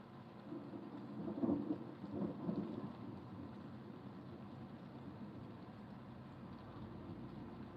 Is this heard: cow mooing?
no